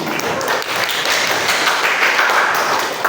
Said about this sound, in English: give applause for Adi.